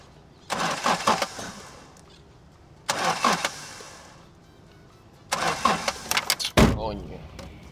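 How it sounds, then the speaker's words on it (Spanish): A car engine cranks and starts in several bursts, each a few seconds long with quieter gaps between, the last ending in a sharp catch. People talk in the car, in Spanish, around the starts. "Prende el carro."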